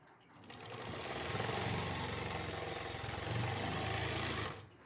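Sewing machine running steadily while stitching salwar lining, a close continuous motor hum with rapid needle chatter that rises in and tapers off at the end.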